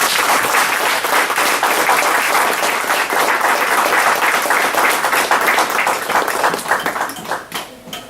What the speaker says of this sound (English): I think he deserves one more round of applause.